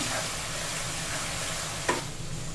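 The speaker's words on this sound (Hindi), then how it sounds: "अब इस प्याज का बरिस्ता में मैं 1 चम्मच अदरक का पेस्ट डाल दूँगी। अब इसे हमें थोड़ा सा भूनना है।" A spoonful of ginger paste frying with browned onions in a pan gives a continuous close sizzle, with a single spatula scrape near the end.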